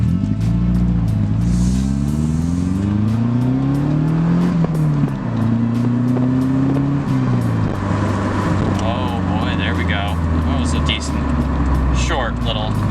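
Car with a manual transmission cruising with the windows rolled down, engine drone rising and falling through gear changes under steady wind and road rush, with a voice talking over it.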